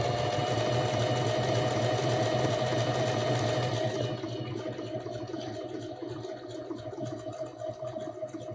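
Bernette Academy 05 sewing machine running a stretch stitch, a steady rapid mechanical whirr with rhythmic needle clatter that drops in intensity partway through, then continues more softly.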